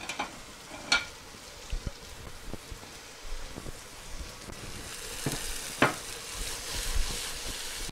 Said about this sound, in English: So I got on a max sear, nice and hot.